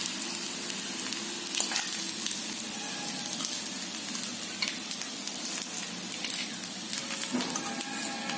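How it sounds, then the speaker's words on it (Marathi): Rice cutlets deep fry in hot oil, giving a continuous dense sizzle with small crackles and occasional stirring clinks close by, steady for the whole stretch and with no voices. "झाले मस्त क्रिस्पी तळले गेले"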